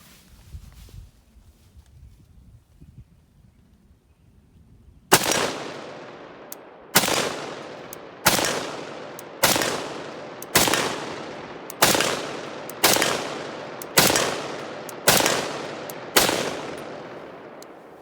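An M1941 Johnson rifle fires ten loud, sharp shots outdoors at a steady pace of roughly one per second. A brief stretch of quiet handling noise comes before the first shot.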